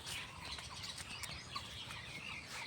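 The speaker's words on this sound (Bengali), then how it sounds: "সুপারি গাছে আছে বিভিন্ন ধরনের পাখিরা মূলত এই গাছগুলোতে এখন থাকে" Various birds chirp and tweet from betel nut trees in an open outdoor setting, a steady mix of small calls at moderate distance with no talking.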